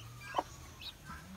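Newly hatched guinea fowl chicks on a small farm give a couple of brief, faint high peeps over a low background hum.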